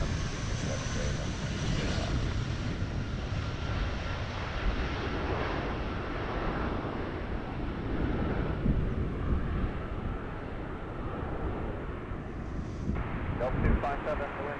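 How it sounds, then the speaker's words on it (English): A jet airliner taxiing at Amsterdam Schiphol Airport gives a broad, steady engine roar with wind noise, close and loud throughout, while a voice and radio chatter talk over it. "Next up we have a plane with its taxi lights on"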